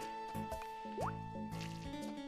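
Watering crops in the Harvest Moon video game (Sonnenschein-Insel) gives short liquid drip and pouring blips, a quick rising splash tone among them, over looping background music, with no talking.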